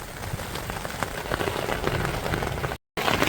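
Rain pattering steadily on a worn, leaky tarp used as a truck bed cover at a backcountry mountain campsite, a dense close drumming that cuts out briefly near the end before resuming.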